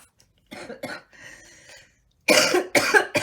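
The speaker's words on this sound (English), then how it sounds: "sorry about to cough." Several harsh, bursting coughs, one after another, up close, with a couple of short breathy sounds before them.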